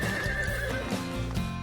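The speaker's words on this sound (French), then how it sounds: "Je m'occupe de ton nouveau cheval." A horse in a cartoon gives a loud whinny, with hooves clip-clopping beneath it in a short burst.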